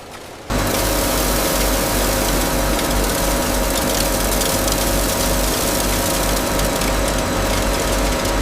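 A grinder in a large garlic processing factory, turning raw garlic into powder, starts up abruptly and keeps running with a loud, dense, unbroken mechanical roar.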